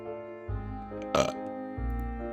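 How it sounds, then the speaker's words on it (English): A game character's belch in the Quest for Infamy adventure video game, one short loud burst standing out over steady background music. "You wolf down all the food and give a proper belch."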